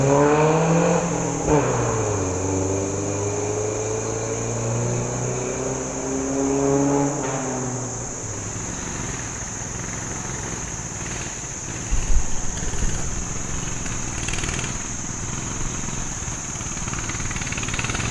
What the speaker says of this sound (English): Looks like some kids riding dirt bikes. That would explain why they keep going back and forth.